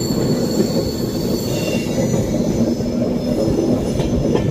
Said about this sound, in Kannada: ತುಂಬ ದೊಡ್ಡ ಟ್ರೈನ್ ಇದು, ಅಂದರೆ ತುಂಬ ಜಾಸ್ತಿ ಕಂಪಾರ್ಟ್ಮೆಂಟ್ಸ್ ಇದೆ ಇದರಲ್ಲಿ